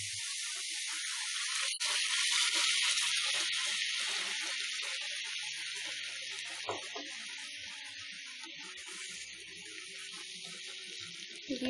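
Milk poured into carrot halwa cooking in a pan makes a broad steady hiss and sizzle, loudest early on and gradually softening, with a few faint clinks.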